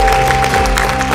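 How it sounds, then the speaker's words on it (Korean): An audience applauds to welcome a Hyundai hydrogen fuel cell researcher onto the stage at an event, dense steady clapping heard briefly and alone. "큰 박수로 환영 부탁드립니다"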